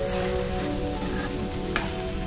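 Cabbage chutney sizzles steadily in a cooking pan over a medium flame, with a soft scrape of stirring partway through, close and continuous without any talking.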